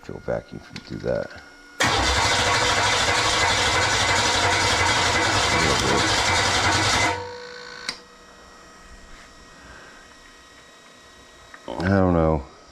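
A car engine on a test setup cranks and then fires, roaring loudly and steadily for about five seconds before shutting off abruptly; voices talk before and after, with a short mechanical whir near the end.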